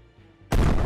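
A single gunshot in the game Ancient Warfare 3, a sudden loud blast breaking in after a quiet low hum and ringing out to the end.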